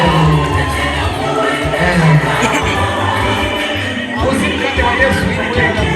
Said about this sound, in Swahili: jamani, vigelegele